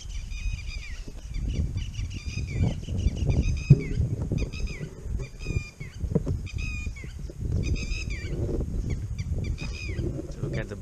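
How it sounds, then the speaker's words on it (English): Repeated bird alarm calls, loud and close, ring out near reservoir backwaters while a steady vehicle rumble from riding continues underneath. "Look at the bird calls."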